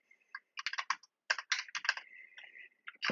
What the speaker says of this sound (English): So now I can type the text.